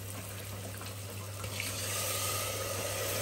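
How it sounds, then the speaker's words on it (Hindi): Water pours steadily into a pan of boiled jackfruit for a Purvanchal-style curry, a continuous close rush and splash with no talk over it. "इसमें पानी ऐड कर देंगे"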